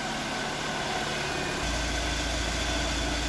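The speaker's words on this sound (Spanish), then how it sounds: "Bien, ya arrancó el auto." A 2003 Dodge Neon engine idles after starting, a steady low hum and broadband mechanical noise that deepens and settles into an even drone partway through, with no talking.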